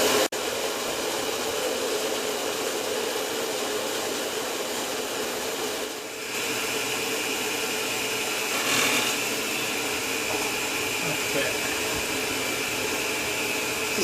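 An electric mixer kneading bread dough runs in a steady, loud whirring drone, unbroken for the whole stretch apart from a brief dip partway through.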